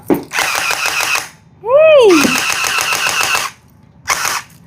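A toy gun received as a gift fires in three loud electronic bursts of rapid rattling shots, with a rising and falling siren-like swoop between the first two bursts.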